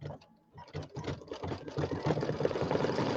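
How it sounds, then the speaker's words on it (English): An embroidery sewing machine stitching a ribbon tack-down line over tape on a Christmas tree bench project, a steady close mechanical whirring hum that builds and runs continuously, no voices. "it's going to stitch down that center section again right over the tape"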